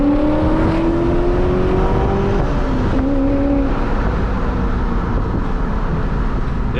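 A manual V8 in a BMW E34 revs hard, its engine note rising and falling in steady pulls beneath a constant wash of road and wind noise, with no voices present.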